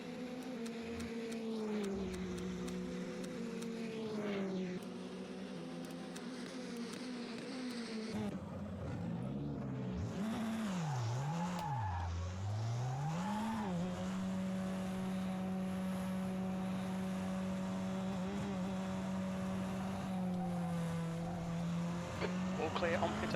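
An F3 race car engine in rFactor 2 at Road America whines with rising and falling pitch as it revs and shifts, close and continuous, with someone talking over it.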